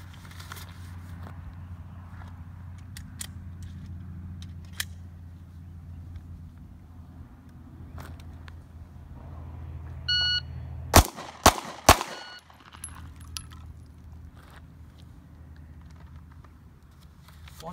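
Three sharp pistol shots fired from the ready position during an FBI qualification course for an ASP instructor program, cracking loud and close in a quick burst of about two seconds over a low background rumble.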